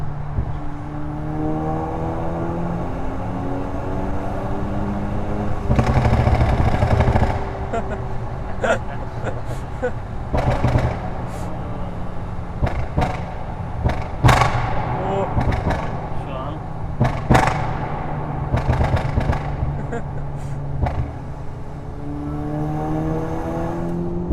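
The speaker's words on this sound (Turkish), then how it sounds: "İstersen bir egzoz sesini dinletelim takipçilere" A tuned Volkswagen Golf 5 GTI Stage 1 engine revs repeatedly with sharp exhaust pops and crackles scattered through, heard from close by with voices talking over it.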